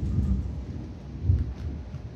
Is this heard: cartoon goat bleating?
no